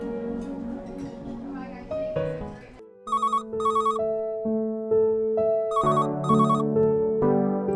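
A telephone rings as a repeating electronic chirp in short paired bursts over a melodic music score in a drama scene.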